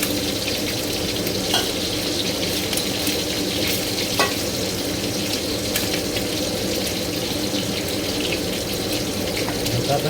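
Marinated pork sizzles steadily over low heat with a dense, even crackle and occasional sharper pops, continuous and close throughout.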